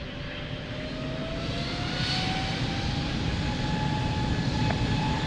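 Airliner taking off at Lisbon Airport, a steady, loud engine roar holding throughout with a rising whine, heard alone without voices.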